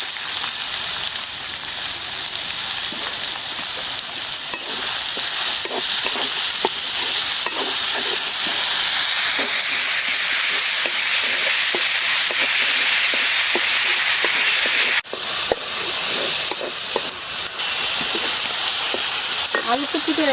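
Chopped onions and green chilies fry in a pan, giving a loud, steady close sizzle that runs throughout, broken by repeated scraping taps of stirring and a brief jolt near the end.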